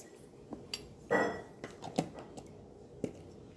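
A spoon stirs a sweet coconut laddu mixture in a bowl, giving a few soft scrapes and light clinks against the sides, quiet and close with pauses between strokes.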